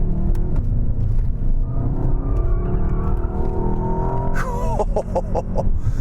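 A Mercedes S-Class with all-wheel drive, an 802 hp engine and a nine-speed dual-clutch gearbox takes a corner at speed. The engine and tyres make a steady, loud roar from inside the cabin, and a few rising whines and clicks come near the end.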